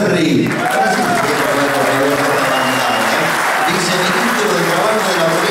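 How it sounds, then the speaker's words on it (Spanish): Crowd applause at a CGT San Lorenzo labor union rally, dense steady clapping throughout with a voice speaking over it at moments. "sí señor, aplausos"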